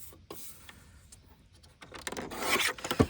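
Paper pages of an old book being trimmed, heard as soft rasping, scraping cuts that build toward a louder, closer cutting stroke near the end, with no talking.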